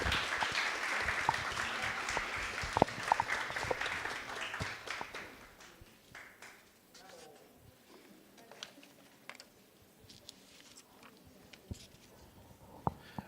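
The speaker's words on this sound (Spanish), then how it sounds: "Fuerte aplauso." Loud applause from a university tourism conference audience at a ninth Mesoamerican tourism congress, dense clapping for several seconds that thins into scattered claps and fades to quieter patter.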